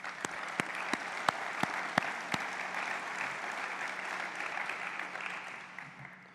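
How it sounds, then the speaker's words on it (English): Applause for veterans at a WWII end-of-war anniversary event: a few sharp, close claps, then a steady wash of clapping from the audience that fades out slowly, fairly quiet overall. "let's give them a round of applause"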